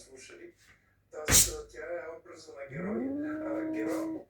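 A cat growls, a low drawn-out rumble building and sustained near the close, preceded by a sharp hiss or spit, with someone talking nearby.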